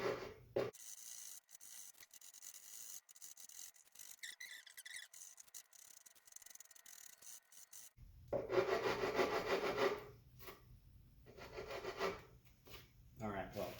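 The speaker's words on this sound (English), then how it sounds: "I'm going to move on to doing this heel right here" A wood rasp files across the heel of an Esquire guitar body in short, close scraping strokes, with a quiet stretch between bursts of rough rubbing.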